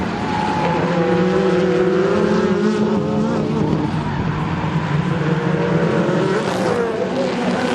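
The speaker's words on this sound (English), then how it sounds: "Rob Huff takes the lead, passing Tarquini on the outside under braking into turn 1" WTCC touring race cars from the 2012 season battle for position under braking into turn 1, engines roaring loudly and continuously with shifting pitch as several cars pass close by.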